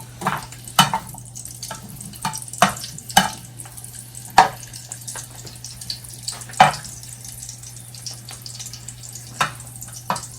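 A ladle stirring food in a cooking pan, with irregular scraping and clinking strokes over a steady low hum and faint sizzling.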